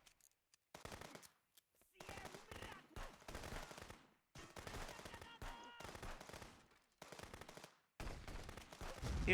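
Heavy automatic gunfire in a video game rattles in long dense bursts separated by brief silences, loud and close, with a few shots continuing to the end.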